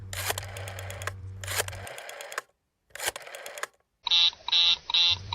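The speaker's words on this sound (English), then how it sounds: "The line is busy." A pulsing telephone busy signal in a radio drama, steady on-off tones repeating about twice a second after a stretch of dense, clattering noise and brief silences.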